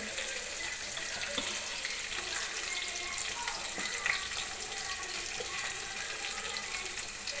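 Shallots cut into rounds sauté in a pan over a full flame on the stove while a country-chicken curry is being cooked. A steady, even sizzle and hiss runs the whole time, close by, with no talking.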